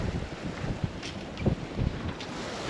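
A Leopard 45 catamaran under sail with a reefed main on an open-sea passage from the Bahamas toward Puerto Rico: steady wind rumble buffets the microphone over soft water rushing along the hulls and occasional splashes.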